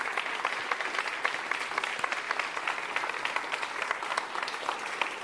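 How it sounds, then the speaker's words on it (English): Applause from the audience at a racing innovation summit in New York, dense even clapping sustained throughout at moderate distance with no voices over it. "So big round of applause to everyone here."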